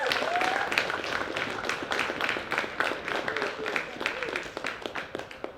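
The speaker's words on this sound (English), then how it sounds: "One last round of applause, please, for Sligo IT." A crowd at a CUFL Men's Premier Division football final applauds the Sligo IT team, a steady patter of many hands clapping for several seconds with voices mixed in.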